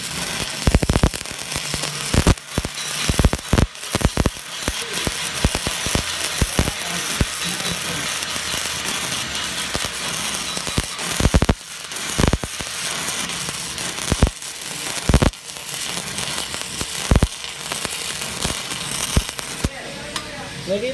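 Crackling, sizzling buzz of a stick welding arc running a flat 1G groove root pass with an E6010/E6011 electrode, steady and close with sharp pops and spatter bursts throughout.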